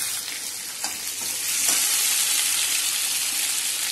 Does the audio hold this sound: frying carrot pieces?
yes